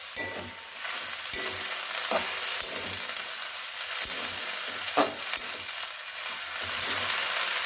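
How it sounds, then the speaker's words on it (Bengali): Bottle gourd leaves cooking in a pan on low flame, with a steady soft sizzle and frying hiss throughout, broken by occasional light clicks and stirring taps. "আমি এবার লো ফ্লেমে শাকগুলোকে একটু সেদ্ধ করে নিচ্ছি।"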